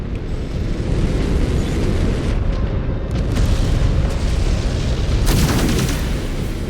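Missile explosions in the Mechwarrior 5 clans DLC battle roll as a continuous heavy booming barrage, with a sharper, brighter blast near the end and no talk over it.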